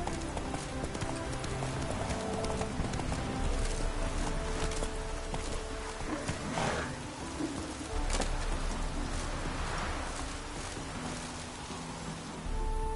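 Horse hooves gallop in rapid, continuous clip-clop through The Witcher 3 game world, loud and near over ambient outdoor sound with birds cooing in the background.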